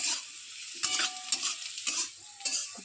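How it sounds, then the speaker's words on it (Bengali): Potatoes fry in a pan in a home kitchen, a constant hiss of sizzling oil broken by several sharp scrapes and clinks as the pieces are stirred, close and with no talking. "মা রান্না করছে এখানে আলু ভাজছে"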